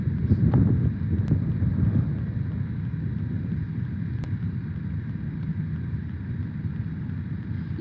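Steady wind buffets a microphone with a low rumble, gusting a bit louder at first, then a constant blustery noise throughout.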